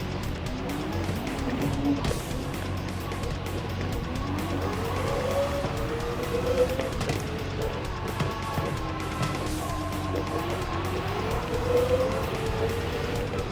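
A race car engine in Gran Turismo 7 revs continuously through a race, its pitch climbing through each gear and dropping on shifts in a repeating pattern, with occasional tire noise underneath.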